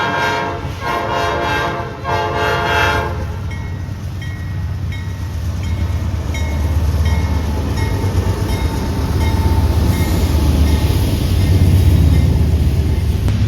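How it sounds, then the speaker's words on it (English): A Norfolk Southern coal train sounds a long, loud horn show of repeated blasts, with a rail rumble and clatter of cars underneath that swells steadily louder as the train comes through near. "here we see an NS coal train where we get joked out by the horn show"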